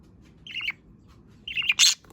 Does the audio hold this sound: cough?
no